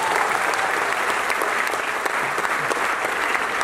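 A theatre audience at a celebration of the play Sahi Re Sahi's 4444th show applauds in a sustained, dense wash of clapping with no voices.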